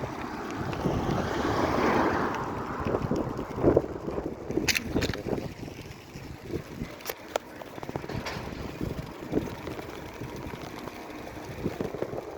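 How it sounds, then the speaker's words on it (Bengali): Wind blows outdoors on a hot sunny day along a cycling route to a shop, a broad rushing gust swelling early then easing into steadier buffeting with occasional knocks and clicks. "গরম হলেও এখানে হাওয়া আছে,"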